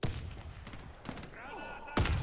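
Gunfire and a grenade blast in a battle: several sharp, loud bursts of shots ring out at irregular intervals, with a shouting voice and a whistling, descending tone between them, ending in a heavy explosive burst.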